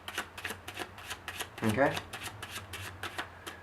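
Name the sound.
overhand shuffle of playing cards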